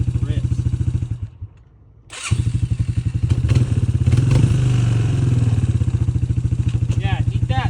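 A boat's outboard motor is pull-started: a short break, then the engine catches and runs steadily with a loud, continuous low throb. Voices speak over it.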